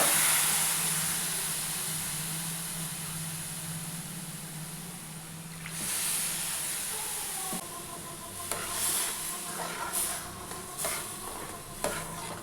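Milk poured into semolina freshly roasted in ghee for rava gulab jamun, giving a steady loud hiss that softens midway, followed by scattered scraping stirs near the end; no talking.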